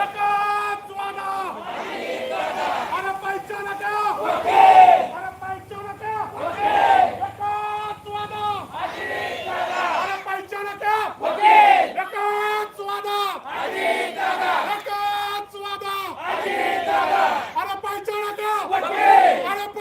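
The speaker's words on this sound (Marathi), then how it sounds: "एकच जल्लोष करताना या ठिकाणी कार्यकर्ते" Party workers celebrating the appointment of a co-opted municipal councillor raise a loud, sustained crowd cheer and chant, rising and falling in rhythmic waves for the whole stretch, with no single speaker standing out.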